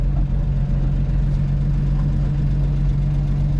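An old car, driven for the first time in decades, runs with a steady low engine drone and a continuous rattling from the loose trunk, loud and constant throughout.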